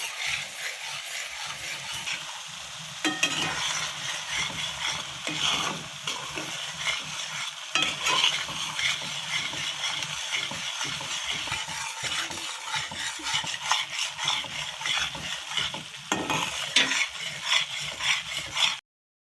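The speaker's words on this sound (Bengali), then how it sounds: "এখন আমরা এই মজ্জুকগুলারে একদম লাইরা লাইরা ভাজি করে নিব" Mutton brain frying in a hot pan, a steady sizzle broken by repeated scraping stirs of a utensil against the pan, continuous and close with no talking.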